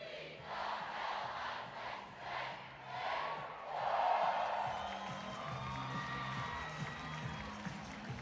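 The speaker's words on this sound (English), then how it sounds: "We've got some fans leading some yells on top of the dugout, getting the crowd involved." College softball crowd between Texas Tech and Texas A&M, with fans on top of the dugout leading yells; rhythmic chanted shouts and cheering swell and fade in waves, with a mid-level crowd roar underneath.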